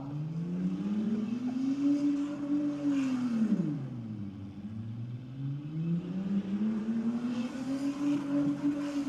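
A Holden Commodore engine revving hard during a burnout at a motorsport event, a loud sustained roar that dips low then climbs and holds high in pitch, continuous throughout.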